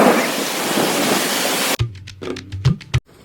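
A storm brings a loud, dense wash of heavy rain that stops abruptly partway through, followed by scattered clicks and tonal sounds.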